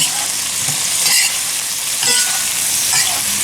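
Tomato and sweet pepper sizzle loudly in a hot pan while being stirred, with a continuous close frying hiss and periodic scraping swells from the spoon, no talking.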